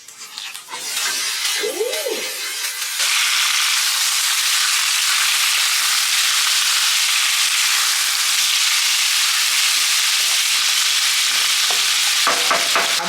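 Store-bought dinner mix tipped into a frying pan, starting with a brief clatter and then breaking into a loud, continuous close-up sizzle with faint stirring noises near the end, no speech.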